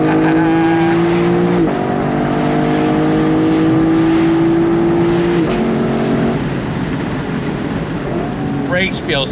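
A 2024 Lexus LC500 Bespoke Edition's V8 pulls hard on throttle, its engine note rising, dropping briefly at a shift, then climbing again before easing off, heard close and loud from inside the car.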